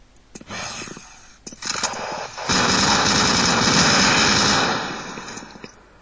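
Rapid bursts of weapon fire from the video game Doom 3, a short volley early, then a louder sustained stretch of dense automatic shooting in the middle before it fades out.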